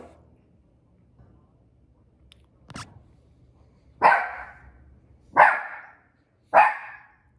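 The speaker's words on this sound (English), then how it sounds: "As my dog's going crazy, as you can hear in the back." A dog barks in the background, a few sharp isolated barks spaced about a second apart, fairly clear against a quiet room after some faint earlier noises.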